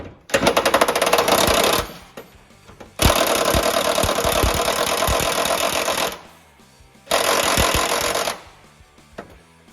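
Power tool tightening a suspension bolt on a 1969 Dodge Charger during a four-link install, three loud close bursts of rapid rattling impact hammering, separated by short pauses.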